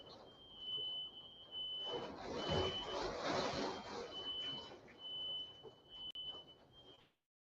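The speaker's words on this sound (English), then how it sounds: "my damn smoke alarm going off" A smoke alarm beeps, a high, thin electronic tone sounding steadily, broken by short gaps, over a muffled voice and background noise.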